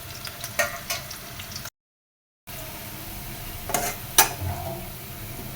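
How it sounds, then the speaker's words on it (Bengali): Onions fried in oil until reddish for Bengali hilsa korma, a steady soft sizzle with occasional stirring scrapes and clinks, briefly cut to silence midway. "পেঁয়াজটা লাল লাল করে ভেজে নিলাম"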